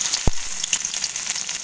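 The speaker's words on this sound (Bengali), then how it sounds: "এবার এর মধ্যে অল্প, বেশি না, অর্ধেক পেঁয়াজ কুচি দিয়ে দেবো।" Chopped onion frying in hot oil in a pan gives a steady, close sizzle, broken once near the start by a single dull knock.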